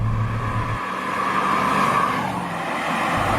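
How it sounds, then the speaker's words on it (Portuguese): A V8 car accelerates quickly from 60 to 80 km/h, its engine a sustained loud roar from inside the cabin with a rising tone, no talking. "Como vocês puderam ver agora, a gente saiu de 60 para 80 muito rápido."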